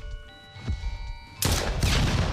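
Gunfire in the horror video game Silly Billy erupts as a loud, dense burst of rapid shots after a stretch of quieter game tones and sound effects.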